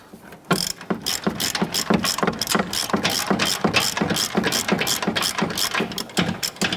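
A ratchet snugs down a front upper control arm bolt on a Ram 1500 pickup: a steady run of rapid, crisp pawl clicks in repeated strokes, close and loud, with no talking.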